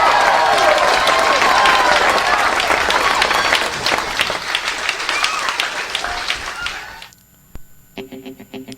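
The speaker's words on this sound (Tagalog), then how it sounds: "isang palakpak nga dyan kay Konsihal Ronje Dakigan" A gathered crowd gives a councilor a loud, dense burst of clapping that gradually thins and fades out near the end, followed by a few faint scattered sounds.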